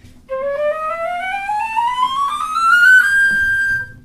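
A flute plays a single clear tone that glides steadily upward into its high register, rising over several seconds and then holding a bright high note, loud and close with no talking.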